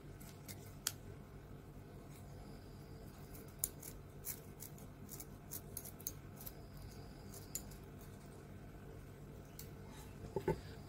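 Scissors snipping crinoline while trimming a fascinator hat, a series of quiet, sharp, scattered cuts spaced irregularly over a soft background, with a small cluster of snips right at the end.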